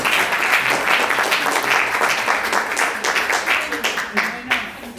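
Applause from guests at an indoor 59th birthday celebration, a steady spread of clapping with some voices mixed in.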